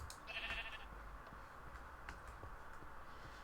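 Sheep in the Minecraft map Diversity 2 give a short bleat early on, fairly faint over a steady background hiss, then fade into quiet noise.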